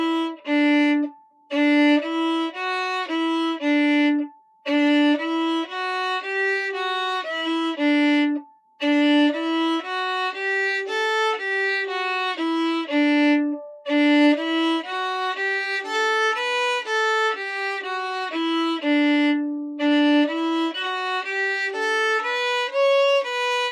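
A musical scale runs up and down at a moderate, steady pace on a clear, pitched instrument, notes sounding one after another with a few brief pauses between passes, with no voices.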